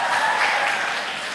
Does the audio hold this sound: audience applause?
yes